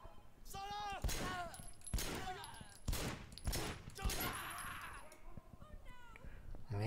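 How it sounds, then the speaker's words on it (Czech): Gunfire in the video game Sleeping Dogs: several sharp shots in an irregular burst across the clip, mixed with game effects and a voice talking. "Někdo střílí nebo co?"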